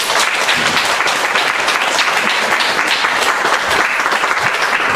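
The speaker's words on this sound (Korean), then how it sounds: "여러분 큰 박수로 환영해 주시면 감사하겠습니다" A church congregation at a Friday prayer meeting claps to welcome a missionary to the front, steady sustained applause filling the room without a break.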